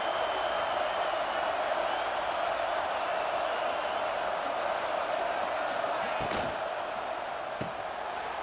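A stadium crowd at a football game roars steadily to keep the opposing team pinned deep in its own end, a dense, continuous wall of cheering with a few sharper shouts rising out of it.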